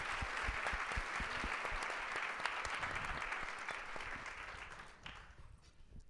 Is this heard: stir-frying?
no